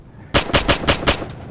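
A rapid burst of automatic gunfire in the military shooter Operation Flashpoint: Dragon Rising, about five loud, sharp, evenly spaced shots at close range, with no talking.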